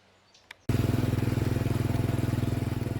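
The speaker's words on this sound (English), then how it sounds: "We duly took the little motorbike and sidecar between the palm trees down to the other end of the island" A small motorbike with sidecar starts up and runs close by with a steady, throbbing putter, loud and continuous, on Koh Mak island, Thailand.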